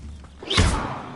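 An Accio summoning spell in Hogwarts Legacy lands as a single heavy whooshing thud, a short swelling rush that peaks sharply and then tails off.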